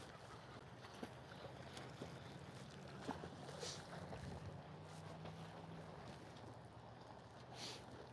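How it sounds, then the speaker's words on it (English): Wind blows steadily outdoors on a cold day in Texas, a constant rushing rumble buffeting the microphone with no voices over it. "the wind's blowing a little bit"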